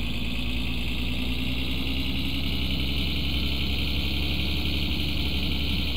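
A car engine in My Summer Car runs steadily at a constant drone, held at revs below the limiter, loud and close with no speech over it.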